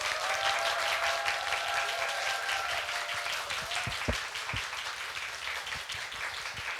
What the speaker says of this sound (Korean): 지난주보다는 훨씬 더 큰 박수를 맞아주시는데요